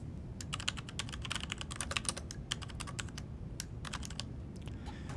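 Rapid keystrokes on a computer keyboard while a DAX formula is entered, an irregular stream of close, crisp clicks over a steady low background hum, with no talking.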